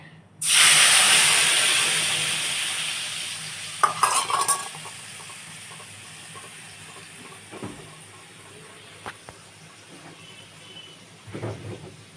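Ground spices with a splash of water cooking in a pan for a vegetarian potol dish, giving a loud burst of sizzle that settles into a steady low hiss with a few scattered stirring clinks.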